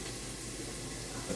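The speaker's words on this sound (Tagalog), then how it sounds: "Patubig." Tap water runs steadily into a sink in a home kitchen while squid is being prepared for cooking, a constant even rush with no talk.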